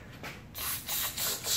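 A paint spray gun with an adjustable fan sprays black paint onto a car dashboard in a DIY interior color change on a Civic, giving a loud, steady hiss in several close bursts with short pauses between them.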